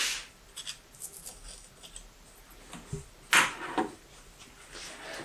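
Tape is cut on the pipe joint of an inground pool pump and filter setup: soft rubbing and handling noises, then one sharp, close snip or tear, followed by a few lighter crinkles.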